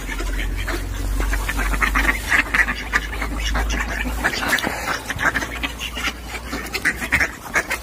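Ducks quack repeatedly and busily at close range while being fed bread on a winter walk, overlapping calls over a low wind rumble, with no talk.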